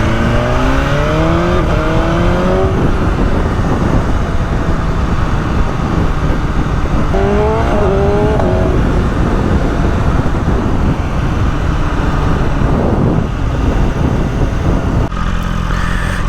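A 2022 BMW S1000RR inline-four motorcycle screams loudly as it accelerates, its engine pitch climbing through several gears in quick rising sweeps, with dense wind roar pressing in throughout.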